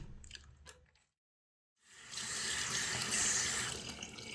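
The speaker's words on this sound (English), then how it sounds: "once you're done scraping, you have to make sure that you wash your tongue scraper" Running tap water rinses a tongue scraper after a few soft squishy clicks and a second of silence, then a steady, close splashing stream fills the rest.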